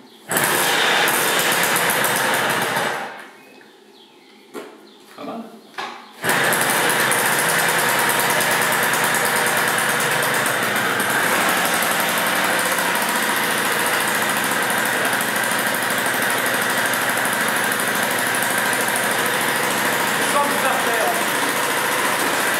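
A new Yamaha PW80 mini motorbike engine runs loud and close with a steady buzzing drone. It drops away briefly for a few seconds, then returns at full strength and holds continuously.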